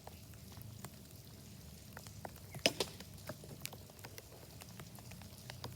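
Light rain on an outdoor tee: a few faint, scattered drops tick sparsely over a quiet, low background rumble, with one slightly sharper tap partway through.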